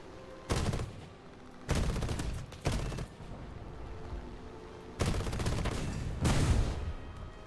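Anti-aircraft gunfire in War Thunder: several loud, broadband bursts of rapid fire, separated by short gaps, with a steady low rumble of ambient battle noise in between.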